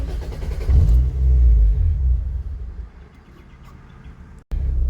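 Car engine stumbling and dipping as a new ECU tune loads, a loud rough idle that sags into a weaker uneven run, cuts out abruptly for a moment, then catches again.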